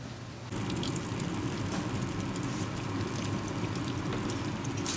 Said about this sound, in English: the instructions said water thoroughly, so I'm going to water all my plants here.